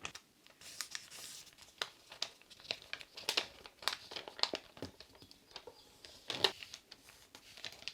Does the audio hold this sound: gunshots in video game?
no